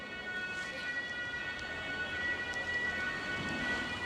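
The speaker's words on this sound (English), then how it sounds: "It's an ambulance." An ambulance siren wails faintly in the distance through steady street noise in downtown Dusseldorf, a thin, sustained tone over a constant wash of city ambience.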